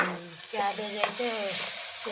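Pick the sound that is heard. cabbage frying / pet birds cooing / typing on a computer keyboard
cabbage frying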